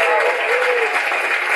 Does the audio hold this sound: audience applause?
yes